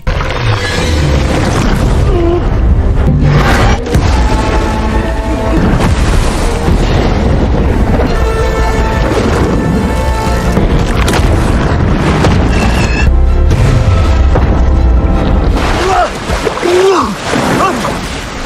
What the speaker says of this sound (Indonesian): Jiu Ming mampu meledakkan bom